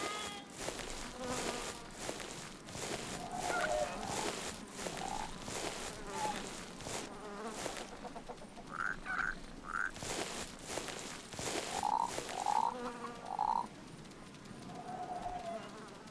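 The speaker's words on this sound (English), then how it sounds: "The frog." Frog croaks sound in short repeated bursts, some single and some in quick runs of two or three, over a dense buzzing chorus of insects that fills the background throughout.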